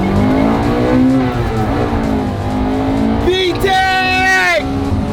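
Honda Integra Type R engine revving hard, climbing into VTEC with rising harmonic whine and bouncing off the rev limiter near the end, loud inside the car with people talking and shouting over it.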